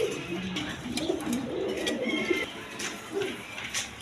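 Domestic pigeons coo repeatedly in low, rolling phrases, close and steady throughout, with scattered light rustles and a few faint chirps around them.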